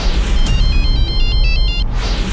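A phone ringtone warbles in a repeated electronic melody, fairly loud over a low background rumble, and is left unanswered.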